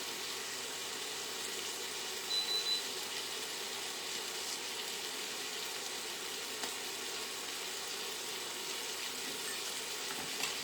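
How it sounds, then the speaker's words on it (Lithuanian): Steaks seasoned with garlic salt and pepper fry in a pan, giving a steady, moderately quiet sizzle with a faint crackle. A few small clinks sound briefly early on, and no voices are heard. "Kol mūsų kepsniai kepa"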